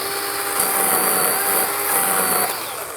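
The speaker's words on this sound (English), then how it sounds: "since we got the chainsaw out and it's cutting pretty good" A chainsaw cuts through wood with a loud, steady whining drone that holds level for a couple of seconds, then eases off as the cut finishes.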